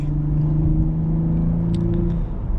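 A 2024 Lexus IS 350 F-Sport engine drones steadily from inside the cabin, a loud, even, throaty hum that holds at constant revs and dips briefly near the end.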